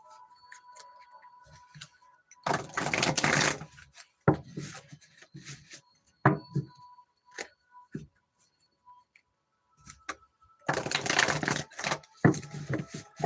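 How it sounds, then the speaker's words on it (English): A deck of tarot cards is shuffled in a quiet room. Two dense riffling bursts come through, with scattered taps and clicks between them, close and fairly soft. "I need to do a little bit of shuffling"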